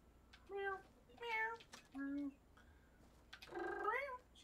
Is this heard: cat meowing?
yes